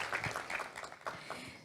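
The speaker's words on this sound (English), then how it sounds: "A round of applause for our panelists and our moderator." A forum audience gives a short, faint round of applause for panelists and a moderator, with scattered claps sounding at a distance in a large room.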